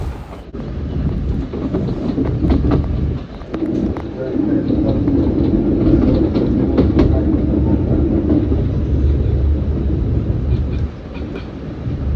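An NJ Transit commuter train rumbles steadily along the Northeast Corridor tracks near Newark with a loud, continuous roar and faint rhythmic clatter, heard from inside the car.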